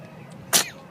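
A single sharp sneeze from a young child bursts out mid-clip, loud and close against a quiet room with faint background murmur.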